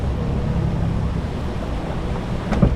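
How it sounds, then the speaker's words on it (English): Large volume of river water rushes out of the Berkeley River in the remote Kimberley, a continuous loud roaring wash with low rumble, a brief knock near the end. "now it is just unbelievable volume of water coming out of there"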